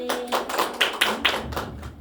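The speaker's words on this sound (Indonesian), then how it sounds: "Beri tepuk tangan anak-anak" A short burst of small hands clapping, several quick uneven claps close by over about two seconds, from children in a primary school classroom.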